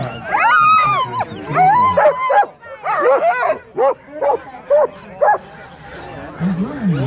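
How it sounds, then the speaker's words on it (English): Sled dogs at a sled dog race start in North America, harnessed as wheel dogs to a sled, bark and yip loudly and continuously in an overlapping excited chorus, with a string of sharp barks near the end. "Those wheel dogs pulling that sled."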